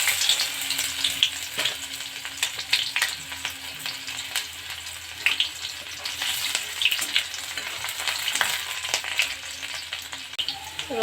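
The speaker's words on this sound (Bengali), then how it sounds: "পেঁয়াজ দিয়ে দিলাম" Onion frying in oil with tempering spices for a dry cabbage dish, a continuous close sizzle with crackles and occasional spatula scrapes, no talking.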